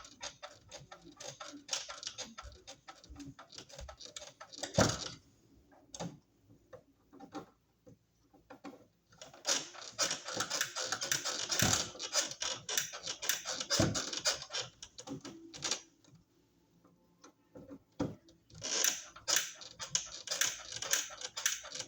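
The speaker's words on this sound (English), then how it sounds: "We'll just take our Phillips screwdriver and we'll just tighten our screws up." A Phillips screwdriver tightens the screws on a new electrical outlet, producing faint, rapid little clicks and ticks in intermittent runs, close by and fairly soft.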